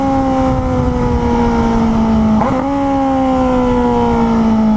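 A 2018 Suzuki GSX-S 750 engine under steady throttle, a loud continuous harmonic drone that holds nearly constant pitch with a brief shift midway, heard close with wind rush and no talking.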